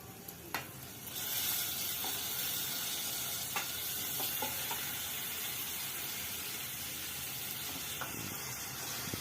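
Marinated prawns hit hot roasted masala in a pan, giving a sudden loud sizzle that settles into a steady close frying hiss with a few stirring scrapes.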